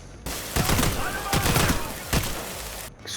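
Bursts from the M7 Pursuivant 3-round burst shotgun in a video game, with several loud blasts up close, separated by short gaps, each followed by a reverberant rumble.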